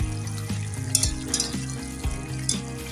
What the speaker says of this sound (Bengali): বাঁধাকপিটা মোটামুটি আমার হয়ে এসছে, এর মধ্যে আমি 1 চামচ মতো ঘি দিয়ে দিচ্ছি